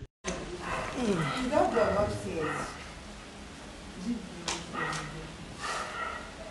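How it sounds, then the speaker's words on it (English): A dog barks outdoors in a few short bursts, mixed in with people talking nearby. "there's another dog"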